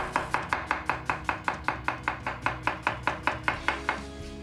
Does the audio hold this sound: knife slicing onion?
yes